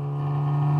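A car's engine drones loudly and steadily, held at high revs during a noise measurement, a strong continuous tone without pause.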